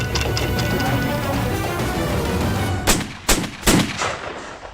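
Musket fire, with three or four sharp loud bursts in quick succession after a stretch of rumbling background noise.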